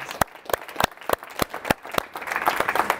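Audience applause at a diversity and inclusion session, opening with a few loud, separate claps at a slow uneven pace that thicken into denser clapping from more hands toward the end.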